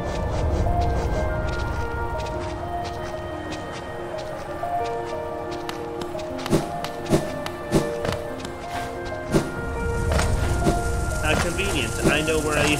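Rain keeps falling in the Hollow Knight video game, a steady patter and hiss that runs through the whole stretch, with soft footsteps and a few sharp clicks of game effects over it.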